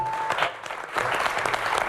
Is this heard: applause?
yes